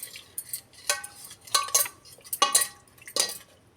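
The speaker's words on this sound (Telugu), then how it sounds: "ధనియా పౌడర్, జీరా పౌడర్ వేసుకొని బాగా కలుపుకుందామండి" A spoon scrapes and clinks against a pot as chilli, coriander and cumin powder are stirred in, for veg Manchurian dum biryani; irregular close metallic strokes with no talk.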